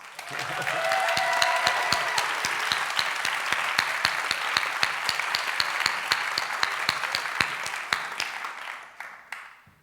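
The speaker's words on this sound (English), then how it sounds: "Everybody show your hands and we'll give a round of applause" A crowd applauds steadily for nearly ten seconds, a dense wash of clapping that slowly thins out at the end.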